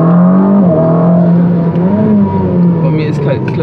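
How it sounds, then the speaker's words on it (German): A Ferrari SF90 hybrid with turbocharged engine and electric motor accelerates hard, its loud tonal engine note rising and dipping through shifts, heard from inside the car with a voice talking over it. "wenn die Turbos reinballern und dann der E-Motor, das schießt so nach vorne."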